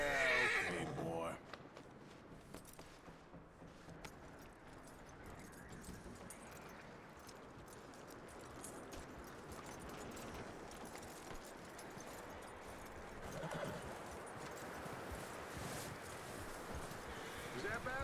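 A horse in the video game Red Dead Redemption 2 whinnies loudly at the start, then hooves clip-clop and shuffle beneath a steady outdoor ambience, with voices talking over it.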